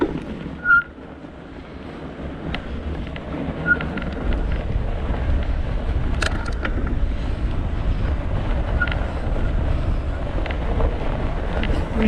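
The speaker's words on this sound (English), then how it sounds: "It's breezy out here. Wow. Really breezy out here." Outdoor wind rushes across the microphone in a steady, loud roar along a snowy trail during a fat bike ride, with a brief thump early on and faint scattered clicks beneath it.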